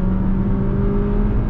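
A 2020 Jeep Compass Limited accelerating hard from the driver's seat, its engine holding a steady, strained whir for a moment with no voices.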